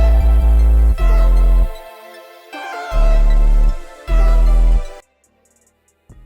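Beat made in FL Studio with a heavy bass added, loud deep bass notes in chopped phrases layered over synth melody lines, dropping out in short gaps and cutting to near silence at the end.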